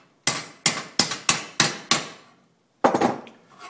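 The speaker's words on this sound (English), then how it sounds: "I'm using this bolt as a dolly of sorts, putting it in the gap and pounding it down through." Metal bolt used as a makeshift dolly is struck by a hammer against a wheel well patch panel: six sharp, close ringing blows in steady rhythm, a short pause, then a rougher seventh hit.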